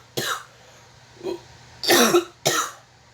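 Four short, sharp coughs from one person at close range, spaced unevenly with quiet gaps between them.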